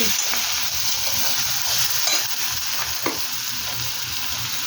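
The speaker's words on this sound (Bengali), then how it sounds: "রসুন বাটা হাফ চামচ মতো দিয়ে দিলাম। ভাজবো এবারে" Garlic paste frying in a pan for chicken kosha, a steady close sizzle with faint stirring scrapes running throughout, no voices.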